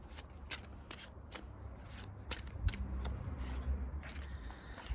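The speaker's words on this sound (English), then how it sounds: "I'm just going to get some tarot cards for us." Tarot cards are shuffled by hand close by, a quiet run of soft riffling flicks and papery slaps in an uneven rhythm, with no voices over them.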